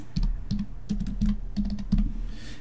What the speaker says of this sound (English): I'm going to type my name.